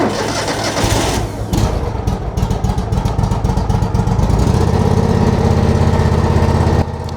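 A project car's engine idles steadily right after coming off choke, a loud, rough, rhythmic mechanical chugging that settles into a fuller, deeper running tone partway through, with no talking.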